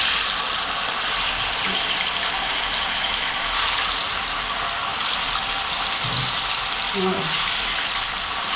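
Spices hit hot oil for sambar and sizzle in a loud, steady hiss that stays dense throughout, with a few faint voices underneath.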